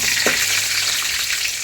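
Ingredients being sautéed in hot oil in a pan for a South Indian tempering, giving a loud, steady, close hiss and sizzle that runs unbroken throughout with no talking.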